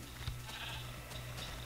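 Sheep in the video game Minecraft give short, thin bleats, several repeated calls spaced across a low steady background hum, fairly quiet and without any talking.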